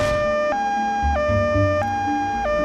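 An ambulance siren wails loudly and close, its two-tone pitch switching up and down at a regular rhythm of about half a second per tone, with faint traffic rumble underneath.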